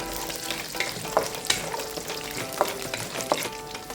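Ingredients for an easy lunch-box dish browning in a hot pan: a steady close sizzle with sharp clicks and scrapes from stirring scattered throughout.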